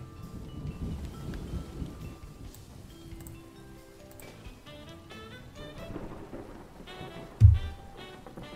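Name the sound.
thunderstorm with rain, replayed recording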